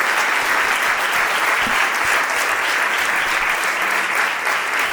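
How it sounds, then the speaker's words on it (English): A crowd applauds steadily and densely at an evening event welcoming a guest named Kévin, with the clapping holding an even, full level from start to finish and no talk over it. "let's make a lot of applause for Kévin"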